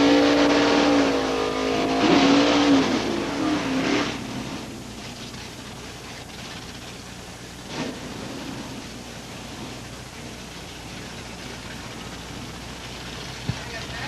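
Drag racing at a motorsports park as a Pontiac Trans Am and a Ford Mustang rumble, revving engines thundering loud up close before fading into a distant drone, with a track announcer talking over the noise.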